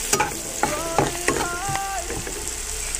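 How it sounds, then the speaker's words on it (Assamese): Chicken fries with masala in hot oil while being stirred, a continuous sizzle with scraping stir strokes and a few bright clinks near the pan, no talk. "একেলগতে ভাজি ল'ম যাতে মছলাৰ পৰা তেলটো ওলাই যায়"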